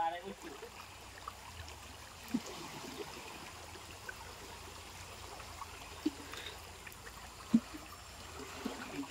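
Muddy floodwater in a swollen stream flows steadily and fairly close, a continuous low rushing wash with a few brief knocks and splashes over the top.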